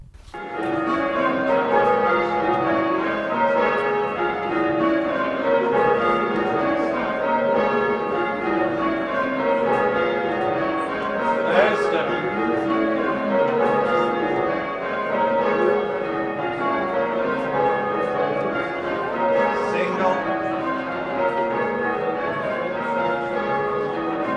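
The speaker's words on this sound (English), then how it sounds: "a group of experienced ringers will try out all the bells together" Several church bells of St Bartholomew's peal together continuously, rung by a group of ringers, overlapping tones tumbling in a steady changing rhythm, loud and close, with no talking.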